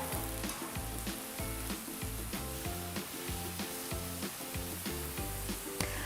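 Mushrooms sauté in a pan with a steady, close sizzle and frequent stirring scrapes, over a low, rhythmic thumping background.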